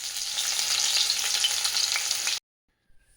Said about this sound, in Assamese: এয়া পিঁয়াজখিনি ভাজি লৈ তাতে ভাজি এখন বহাই দিম